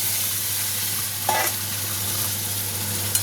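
Fried potatoes, splashed with a little water, are sautéed in spice masala for a tangra fish curry. A steady close sizzle and hiss holds throughout, with a brief scraping stir near the middle and no talk.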